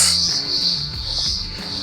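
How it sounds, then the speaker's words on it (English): A loud, dense, continuous high-pitched chirring of many crickets fills the air at the Venus Baths, steady and close, with low background rumble. "the sound of crickets at the moment is almost deafening"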